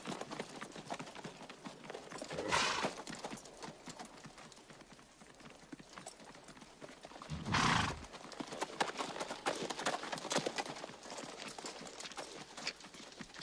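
Horses gallop in an old rebel crime film, a dense steady clip-clop of hooves with two loud neighs rising over the running.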